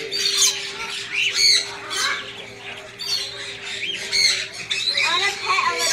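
Parakeets and finches squawk and chirp in a pet store, a dense, continuous chorus of overlapping shrill calls with a steady hum underneath.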